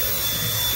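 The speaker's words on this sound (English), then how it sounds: "It's getting up a lot of the dirt with this rotating brush right here." Dyson V10 Animal cordless vacuum with its rotating brush head cleaning a car interior, a steady close whirring hum with scrubbing brush noise throughout.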